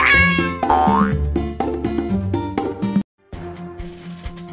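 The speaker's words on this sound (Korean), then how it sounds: "한편 맥스는 고양이들이 안전하도록 돌봐주었답니다." Cartoon cats meow several times in an animated children's heavy-equipment story, with bright, falling cries over busy music and sound effects; a short gap is followed by quieter clatter.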